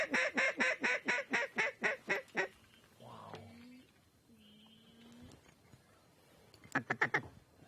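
Ducks on a flooded duck-hunting field in Southern Illinois: a loud, rapid run of about ten close quacks, a pause with scattered calls, then another quick burst of quacking near the end.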